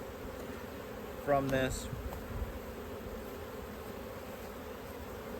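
Honeybees swarm around a beehive frame, their steady droning buzz filling the whole stretch while someone speaks briefly over it.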